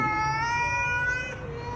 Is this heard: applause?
no